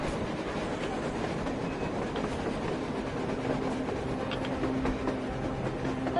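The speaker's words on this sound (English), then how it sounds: "A train! A damn train on the surface!" A train rolls past on the surface in the video game Metro Exodus, a steady rumbling, clattering roar of wheels and cars sustained throughout without any voices.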